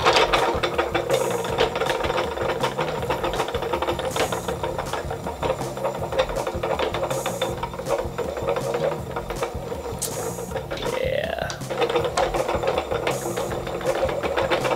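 A spinning wheel spins wool fiber, a steady close mechanical whir with rhythmic clicking and ratcheting ticks that repeat evenly for the whole stretch, with a brief squeaky shift near the end and no talking.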